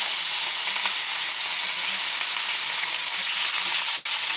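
A steak fries in a hot pan, giving a loud, constant close-up sizzle with a dense hiss and faint crackles that barely changes throughout, broken only by a tiny dip near the end.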